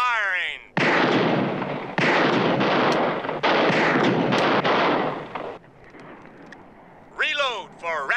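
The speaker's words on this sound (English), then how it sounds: "Commence firing!" Shooters on a firing line letting off a rapid string of loud, close gunshots that blur into sustained blasts, followed by a quieter pause and some chirping noises at the end.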